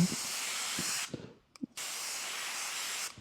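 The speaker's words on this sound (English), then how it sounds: "So I'm just going to test this to see that it's spraying okay." Two loud, steady bursts of airy hissing spray from a Harbor Freight airbrush spraying paint, with a short pause between them, close by and with no voices.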